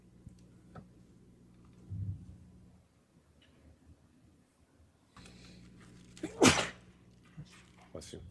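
A single sharp sneeze bursts out in a quiet courtroom, loud against faint room noise and brief murmurs from people nearby.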